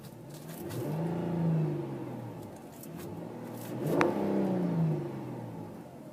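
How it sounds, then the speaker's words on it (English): A 2010 Dodge Charger SXT engine is revved twice from idle, each rev rising and falling smoothly. It is heard close and clear, with no talking. "Pretty good engine."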